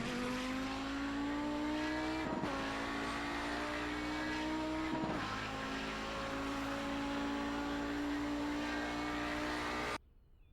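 Audi 90 GTO race car lapping Snetterton circuit, a steady loud engine drone holding pitch throughout, with two brief shifts or dips along the way, then cutting off abruptly near the end.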